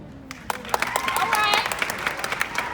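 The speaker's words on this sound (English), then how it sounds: "We're going to do the applause." Audience applause at the Colin Powell Middle School Class of 2023 graduation, a mix of scattered claps and crowd noise that builds and stays steady, with voices talking over it.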